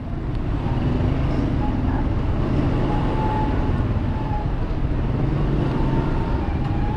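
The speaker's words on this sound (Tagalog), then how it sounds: "Yun, traffic." Road traffic rumbles continuously and fairly loudly, a dense low roar of passing vehicles with a faint tonal whine riding over it, no voices clearly heard.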